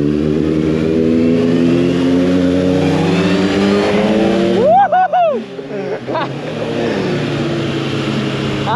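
A 2023 Honda CBR 650R motorcycle engine revs up loud and close, its pitch climbing steadily before a couple of sharp throttle blips and then settling back down.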